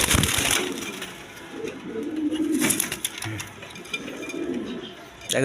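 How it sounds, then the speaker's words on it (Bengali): Black Gola pigeons coo in a pair, their low rolling calls rising and falling in a few close, moderately loud bursts against a steady background hiss. "প্রথমে এক পেয়ার কবুতর দেখাইতেছে গররা কবুতর ব্ল্যাক কালারের মধ্যে দেখে"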